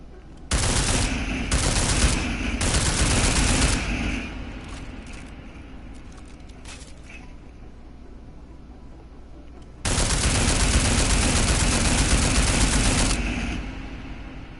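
Two loud, rapid bursts of automatic gunfire from the video game Deus Ex: Mankind Divided on PS4 Pro, separated by a quieter rumbling lull of several seconds, then a second, longer sustained volley.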